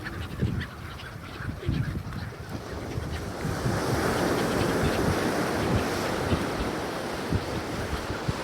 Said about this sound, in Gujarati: નાની નાની લહેરો હે, ઠંડી ઠંડી લહેરો આવે એમ કે